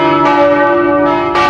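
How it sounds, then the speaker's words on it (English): A church bell rings with a sustained, ringing tone, struck again near the start and end of the short stretch, loud and close with long overlapping harmonics and no voices. "bells were a primary means of communication"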